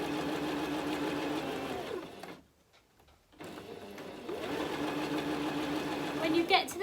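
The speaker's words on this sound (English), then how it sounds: "want to top stitch right near the edge of our fabric, right near the edge of our seam here" A sewing machine top stitches along the edge of a tote bag seam, its motor whirring in two steady runs split by a brief pause near the middle, close up, with a voice talking over it.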